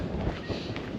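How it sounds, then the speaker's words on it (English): Wind blowing across a hilltop on a hiking trail, a steady low rumble and buffeting against the microphone, constant and close for the short moment. "Pretty windy up here though"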